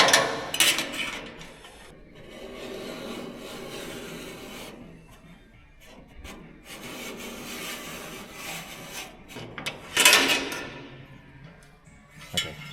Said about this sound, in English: I'm just going to run a scribe line across there